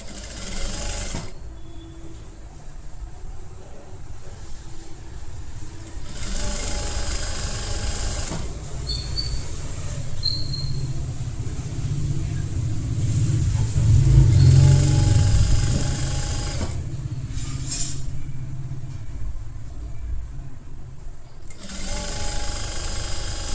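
A sewing machine stitches along the double-folded edge of a halter neck kurti, running in bursts of steady mechanical whirring with short pauses between runs, close and fairly loud.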